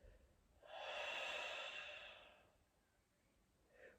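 A single slow, soft exhale during a guided breathing exercise, faint and breathy, swelling and then fading away in a quiet room.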